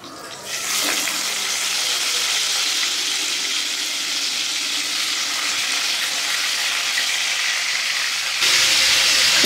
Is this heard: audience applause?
no